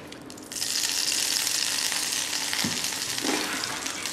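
Melted butter sizzles steadily in a pan, a close, continuous hiss of frying while snails braised for four hours are about to be sautéed, with a couple of brief clinks partway through.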